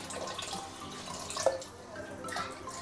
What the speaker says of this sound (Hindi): ये डाल दिया है मैंने इसमें 1 लीटर पानी, मज़ीद 2 लीटर पानी आ गया है इसमें